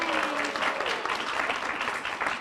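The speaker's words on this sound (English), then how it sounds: "Yes, cheering crowd for Rachel" A crowd at a massage therapy pinning ceremony applauds with dense, continuous clapping, and a brief cheering voice rises over it near the start.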